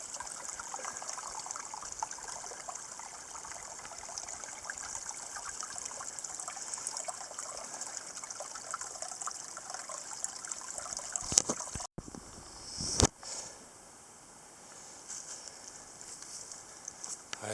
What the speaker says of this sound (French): c'est une vraie cascade